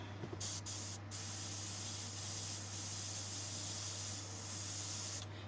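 A Harder and Steenbeck Infinity CR Plus airbrush sprays airbrush-ready earth-toned paint onto a sheet of paper, producing a steady, close, continuous hiss of air under a low constant hum.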